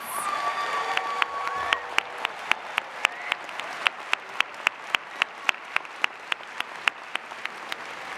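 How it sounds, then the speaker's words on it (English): An audience at a university spring commencement ceremony applauds master's and specialist degree graduates: a soft wash of crowd clapping with sharp, evenly spaced claps standing out near the listener. "Please give a round of applause to the master's and specialist degree graduates."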